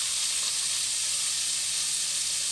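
Onions and carrots cut into sticks frying in a pan, a steady close sizzle with a continuous hiss while they are stirred.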